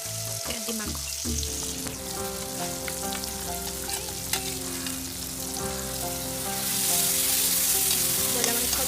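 Broiler chicken meat frying in hot oil, giving a loud, continuous sizzle with stirring scrapes over a steady hum, growing slightly louder toward the end, with no talking.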